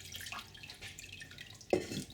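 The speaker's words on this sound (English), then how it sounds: "I'm just going to let it strain into the pot" Whey from homemade mozzarella curds straining through and dripping into a pot, soft intermittent drips and trickles with one brighter splash near the end, quiet and close.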